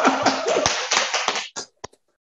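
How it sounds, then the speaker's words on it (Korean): A small group at a village community meeting claps briefly in a quick close burst, which trails off into a few scattered final claps. "박수 한번 주세요"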